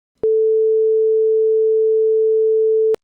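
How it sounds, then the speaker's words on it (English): A steady pure sine tone at the musical note A, playing alone at a constant level for close to three seconds, with sharp clicks where it starts and stops. "That's what the note A sounds like."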